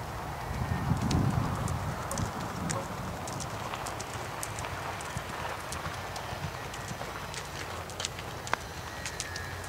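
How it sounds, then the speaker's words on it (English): A horse cantering during a jumping lesson on a curved dog-leg approach, its hoofbeats a steady, rolling clip-clop that carries on throughout at moderate distance over faint outdoor background noise. "I like this canter."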